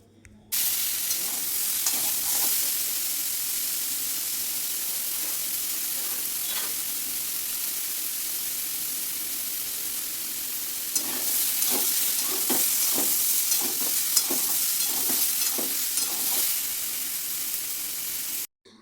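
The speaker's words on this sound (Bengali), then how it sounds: "ওই তেলে আমি কাঁঠাল আর আলুটাকে একসাথে ভেজে নেব।" Jackfruit and potato pieces fry lightly in a little oil in a wok, a steady close sizzle with bursts of sharper crackle and stirring scrapes in the latter half, no talk.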